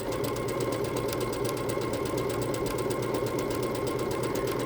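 A Bernette B-77 sewing machine runs continuously at a fast, even pace while stitching a layered stitch, giving a steady mechanical whir and rapid rhythmic needle clatter, close and constant throughout with no talk.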